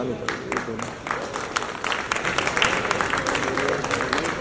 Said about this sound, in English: can we have a big round of applause for all of you for making the time here today?